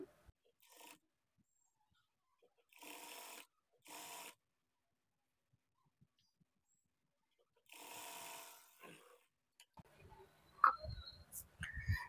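Sewing machine stitching around a blouse shape belt, heard in several short bursts of rapid mechanical whirring separated by silences, close and fairly quiet, with some handling clatter at the end.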